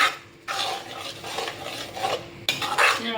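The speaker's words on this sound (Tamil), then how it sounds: "இதை நாட்டு சக்கரையை போட்டு நல்லா கிண்டி விட்டுட்டு" A spoon scrapes and clatters against a pan as jaggery sugar is stirred into sweet mango pachadi, with close, steady metallic scraping in bursts and a sharp renewed stir near the end.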